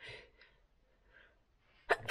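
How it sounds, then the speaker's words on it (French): A single loud sneeze bursts out near the end, preceded by faint breathy sounds and near silence. "Mais c'est que ça me ferait éternuer,"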